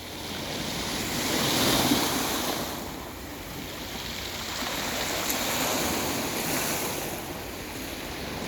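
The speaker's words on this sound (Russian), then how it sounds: "Море начало немножечко штормить." Steady roar of evening sea waves rolling in and breaking on the shore at Tuapse on the Black Sea as a storm builds, a broad wash that swells and recedes, with some wind noise.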